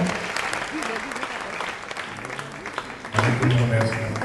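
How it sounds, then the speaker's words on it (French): Clapping from an audience at a sports awards evening runs under a speaking voice, then swells louder near the end as talk continues over it. "On peut applaudir encore très très fort pour ce moment."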